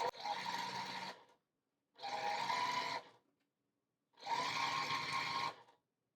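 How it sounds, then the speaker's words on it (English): Sewing machine stitching long fabric strips for a quilt, running in three separate bursts of about a second each with short silent pauses between, close and fairly quiet. "These long strips seem to take forever to sew."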